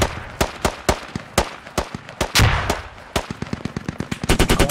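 Rapid bursts of rifle and machine-gun fire in the Squad infantry shooter, sharp repeated cracks in uneven volleys, some close and loud, ending in a fast automatic string.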